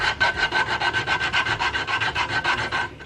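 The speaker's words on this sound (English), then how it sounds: "get some sanding done, which is good" Coarse sandpaper rasps rhythmically against the wooden body of an electric guitar in quick, even back-and-forth strokes, close and loud, about a dozen passes with no talking.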